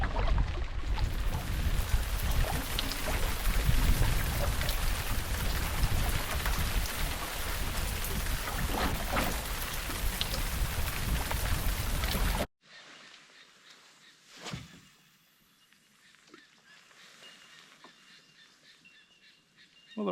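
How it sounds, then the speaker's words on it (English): Steady rain shower falling on a lake during a canoe camping trip, a dense even hiss for about twelve seconds before it cuts to a much quieter outdoor scene with faint scattered sounds. "Well, the rain finally stopped."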